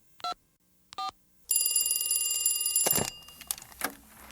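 A telephone rings in a recorded prank-call skit. Two short electronic trills come first, then a longer sustained ring that cuts off with a click and some handling noise.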